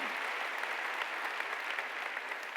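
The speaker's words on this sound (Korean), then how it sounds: "박수로 하나님께 영광을 돌려야 된다" Sustained congregational applause fills a church during a Sunday worship service, a steady dense wash of clapping from many hands with no break, fairly quiet and distant.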